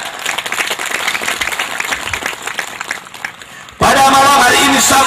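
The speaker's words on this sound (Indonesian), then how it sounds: "Tepuk tangan." An audience at a religious zikir gathering claps in a dense round of applause that fades, then a loud amplified voice cuts in abruptly.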